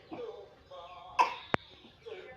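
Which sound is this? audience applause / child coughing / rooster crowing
child coughing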